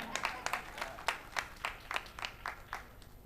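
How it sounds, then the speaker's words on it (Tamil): Sparse clapping from a small audience of about ten people at a Tamil speech event, a dozen or so distinct claps at an irregular, loose rhythm, fairly faint and not joined by talk. "ஒரு பத்து பேர் கைத்தட்டினீர்கள்"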